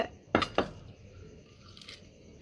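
Tomatoes and curry leaves for green gram dal pepper rasam drop into a grinder jar, making two sharp, close clinking knocks in quick succession followed by a faint soft rustle.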